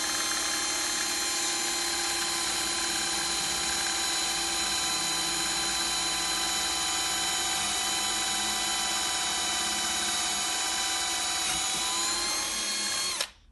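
A power drill whirs steadily and loudly as it bores an angled hole in poker table material, a constant high whine for several seconds before cutting off abruptly as it breaks through.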